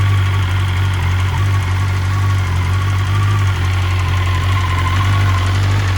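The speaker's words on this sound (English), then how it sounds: "BrenTuning Stage 1, ECU flash, bike started right away, sounds much better" A 2020 BMW S1000RR motorcycle with a BrenTuning Stage 1 ECU flash idles steadily after a cold start, giving a loud, close, continuous engine drone with a knocking, rattly edge and no talk.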